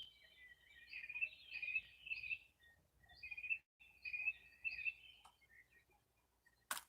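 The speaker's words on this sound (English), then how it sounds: "Birds chirping." Small birds chirp outdoors in bursts of bright twittering calls, spaced by brief pauses, fairly close but soft, ending with a sharp click.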